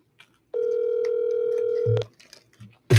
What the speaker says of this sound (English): Punching your phone number, and I'm going to call you, but answer the phone, man.